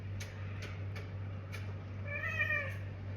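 Cats meowing indoors in a home: one drawn-out, clear meow rises near the end over a steady low mains hum, preceded by a few faint clicks and ticks.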